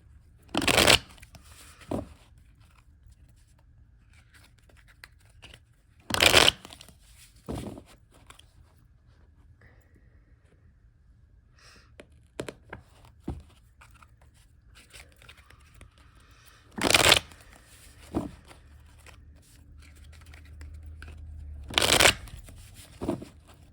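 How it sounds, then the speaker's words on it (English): Tarot cards being shuffled by hand, with four loud riffling bursts several seconds apart and softer card handling and taps in between, close up with no talking. "do 3 clarifying cards coming from the clarifying deck"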